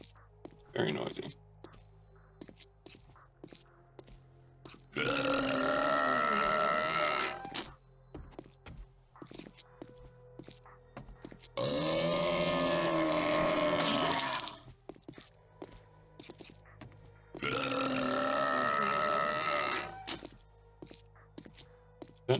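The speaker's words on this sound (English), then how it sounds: "Don't know if he needs to be burping constantly." A creature in the video game 7 Days to Die lets out loud, drawn-out burping groans, three of them a few seconds apart, over faint game ambience and soft clicks.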